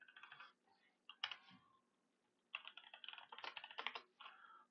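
Rapid bursts of typing on a computer keyboard during a programming session, close and clear, in two flurries separated by a short pause with no talk.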